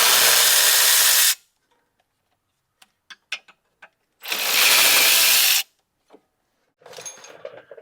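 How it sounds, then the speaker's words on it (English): A battery-powered ratchet spins out caliper bracket bolts on a 2006-2011 eighth-generation Honda Civic, two loud, close buzzing runs of about a second each separated by small metallic clicks and taps, then a shorter burst at the end. "you could use your battery powered ratchet to remove the bolts"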